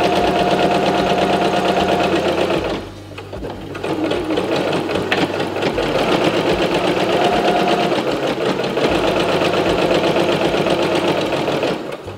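A sewing machine stitching long linen tea towel strips, a loud rapid mechanical chatter running continuously with one brief pause before resuming.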